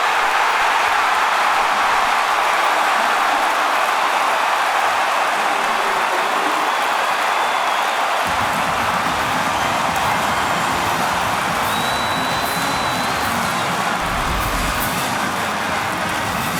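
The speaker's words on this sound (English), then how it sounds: "You can hear the crowd" Stadium crowd at the 2022 Gator Bowl college football game between Notre Dame and South Carolina, a broad steady roar of many voices filling the whole stretch, swelling louder in the second half.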